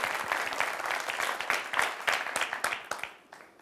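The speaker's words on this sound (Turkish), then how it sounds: "Bir alkış da buna." A small studio audience gives a brief round of applause, with dense clapping that holds steady and then thins out and fades at the end.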